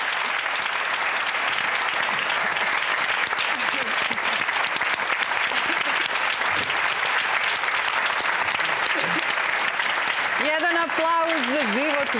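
Audience clapping for a live comedy show, dense sustained applause at full volume throughout, with a voice speaking over it toward the end.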